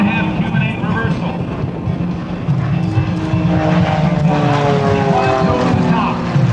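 An aerobatic airplane roars through a maneuver at an airshow, its engine droning and shifting in pitch as it climbs and turns, heard at a distance over crowd noise, with a commentator talking over the public address.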